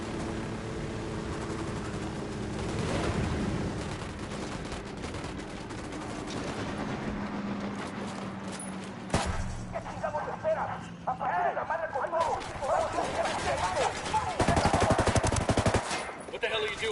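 Rapid gunfire in the video game Ghost Recon Wildlands, with dense automatic bursts crackling throughout and voices talking over the shooting.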